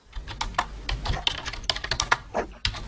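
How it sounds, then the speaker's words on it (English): Rapid, irregular clicking of someone typing on a computer keyboard, heard close and alone during a remote conversation, with bursts of keystrokes and short pauses. "who's typing?"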